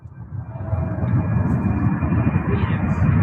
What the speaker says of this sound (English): UPS 767 is taking off now on runway 17 right.